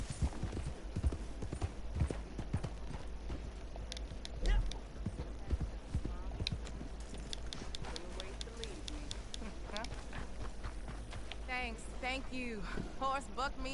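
Horse hooves clip-clop at a steady pace in the Red Dead Redemption 2 video game, soft and continuous beneath a man chatting casually throughout.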